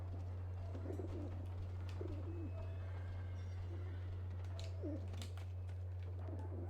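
Pigeons at a coop in Alice: Madness Returns give several soft, throaty coos in scattered bursts over a constant low hum, with faint chirps and light background clatter.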